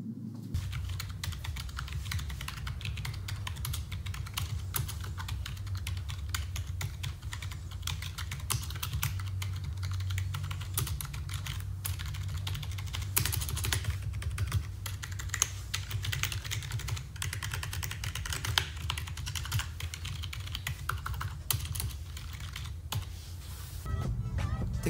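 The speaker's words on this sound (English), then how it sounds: "This is how the keys sound when you are typing or even playing." Steady typing on a Riitek RK100+ non-mechanical keyboard, a continuous run of soft, close key taps at a quick, uneven rhythm over a low background hum.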